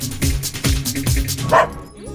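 In a Hindi-dubbed South Indian film scene, a dog barks repeatedly in a quick, uneven rhythm. The barks are loud and close, set against busy background sound.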